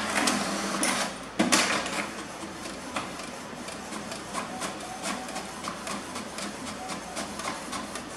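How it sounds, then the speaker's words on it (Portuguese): An HP Deskjet Ink Advantage 3636 inkjet printer running a print job over USB, a steady mechanical whir with a sharp clack near the start and regular faint ticks as the carriage moves, close and unaccompanied by talk. "Vou colocar pra imprimir no computador."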